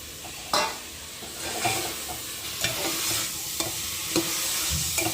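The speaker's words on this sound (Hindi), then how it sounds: "तो इसमें प्याज डाल दूँगी और थोड़ी सी फ्राई करके फिर डाल दूँगी आलू" Onions frying in a pan with cooked spices and softened tomatoes, a steady close sizzle broken by several sharp stirring scrapes spaced through the clip, with no talking.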